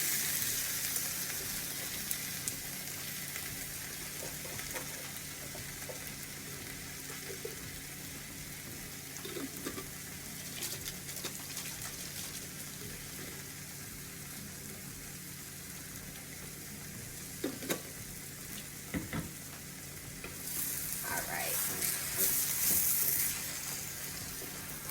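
Sauce cooking in a pan for vegan spaghetti squash gives a steady, fairly quiet sizzle and bubbling throughout, with occasional stirring clinks and a brief louder hiss near the end, no speech.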